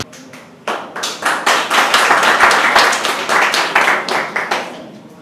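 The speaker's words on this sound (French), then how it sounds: "On nous applaudit s'il vous plaît." Schoolgoers at a lycée lab inauguration applaud a singing group. After a soft start, a loud burst of close, crisp clapping swells into a lively, uneven round before gradually thinning out.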